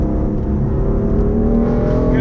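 A 2018 BMW M4 (F82) on a race track pulls hard under acceleration, its loud, steady engine drone filling the cabin continuously with no letup.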